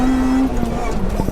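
A supercharged Honda Integra Type R DC5 engine revs high near 8,500 RPM with a steady whine that drops as the revs fall, loud and close inside the car, brief.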